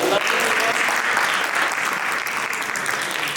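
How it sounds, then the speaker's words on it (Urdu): An audience at a motivational talk claps loudly and continuously, a thick wash of applause from many hands that holds steady throughout. "اپنے لیے بہت ساری تالیاں بجا دیں"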